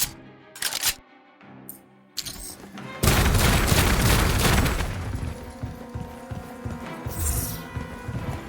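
Explosive shot gunfire in the video game Outcast: A New Beginning, a few sharp bursts early on followed by a loud sustained barrage of shots and rumbling impacts that gradually eases off.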